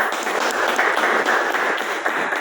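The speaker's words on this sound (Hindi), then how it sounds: "हमारे एमडी सर जी के सम्मान में जोरदार तालियां" Loud, sustained applause from a gathering at a team meeting, honouring the managing director, a dense steady wash of clapping with no pauses.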